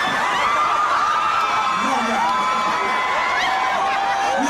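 A crowd of girls screams and cheers at a Beenie Man versus Ninja Man dancehall show in 2004, a loud sustained wash of shrill voices filling the whole stretch.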